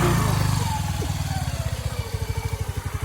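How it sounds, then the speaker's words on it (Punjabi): A motorcycle brakes and its engine slows from a rougher rumble to a steady, pulsing idle putter close by, without any voices. "ਬ੍ਰੇਕਾ ਮਾਰਦਾ ਮੁੰਡਿਆ ਵਾਂਗੂ ਆਇਆ ਯਾਰ ਮੋਟਰਸਾਈਕਲ ਤੇ"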